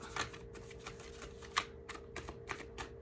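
A tarot deck is riffled and shuffled in quick, crisp bursts, with papery card flicks repeating in an irregular rhythm close by over a faint steady hum, no voices.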